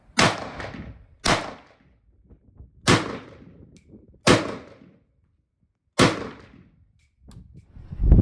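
An SKS rifle firing five rounds, sharp loud cracks spaced roughly a second and a half apart, each ringing out briefly before fading, with a short gap and quiet shuffling between shots and another blast starting at the very end.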